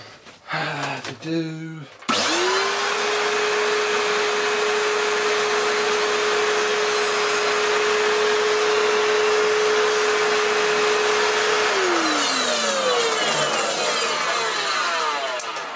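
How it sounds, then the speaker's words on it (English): An Electrolux Cyclone Power Z1910 self-propelled vacuum cleaner starts up after a brief rattle, its brush roll rotating, and runs with a steady, loud whirring hum, then winds down, its pitch sliding lower as it stops. "once the brush roll started to rotate, that helped quite a lot"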